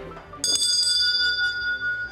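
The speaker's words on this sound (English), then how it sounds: "It's like a school bell." An old, heavy school bell, wired up, rings with a bright sustained metallic tone that starts sharply and holds, close and fairly loud.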